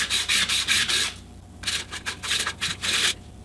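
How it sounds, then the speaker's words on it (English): Laminate wood strips for a guitar rosette rubbed back and forth over 220 grit sandpaper on a flat surface: rapid rasping strokes in two bursts separated by a short pause, close and steady. "I'm using 220 grit sandpaper on a flat surface. And I'm just sanding to get rid of the fuzzy."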